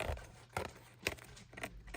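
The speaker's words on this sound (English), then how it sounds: "I'll just go through all of these and use my scissors" Scissors snipping off extra edges, a few quiet, separate crisp cuts spaced roughly half a second apart against a near-silent background.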